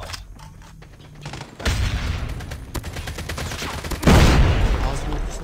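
Gunfire and a grenade blast in a Call of Duty Mobile match: dense rattling shots over steady battle noise, with a loud explosion boom near the end and in-game voices in the mix.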